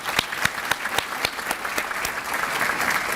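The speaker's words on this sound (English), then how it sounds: "Let's give them a round of applause." An audience at a city State of the City event applauds council members. A few sharp, distinct claps open and grow into a fuller round of clapping that stays steady and close.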